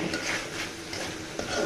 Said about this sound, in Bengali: কিছুক্ষণ কষিয়ে নেব